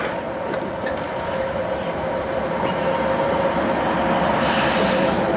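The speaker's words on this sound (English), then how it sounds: "Let's watch this train go." A train rumbles steadily past on the line between Chapel-en-le-Frith and Chinley, England, a continuous low roar with metallic wheel noise building slightly louder toward the end.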